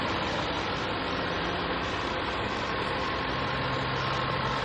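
A 2018 Land Rover Range Rover Sport HSE Dynamic engine idles in a steady, dense, unbroken hum with a constant low drone and no revving.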